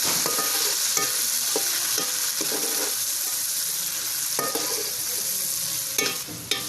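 Ginger garlic paste and a large chopped tomato stirred into masala in a hot pan for matar biryani, a steady sizzle with occasional spoon scrapes and knocks up close, no voices.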